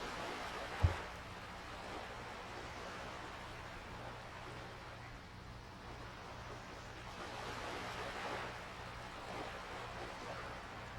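Ocean waves from a video game sound quiet and oddly glitchy, a faint hissing surf wash that swells and recedes unevenly over a low steady drone, with one brief thump near the start.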